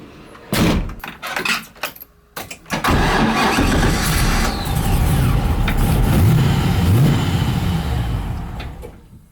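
An LS1 V8-swapped Nissan 180SX: a door closes, keys rattle, the starter cranks and the engine catches into a loud rumbling idle, then revs and moves off with a steady drone.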